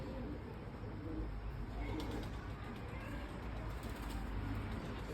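Pigeons in a loft cooing softly and faintly, low murmuring coos beneath steady background noise, with faint voices in the distance.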